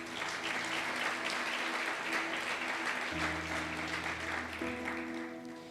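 A church congregation applauds in a full, steady wash of clapping that fills the room, with sustained keyboard chords ringing underneath throughout.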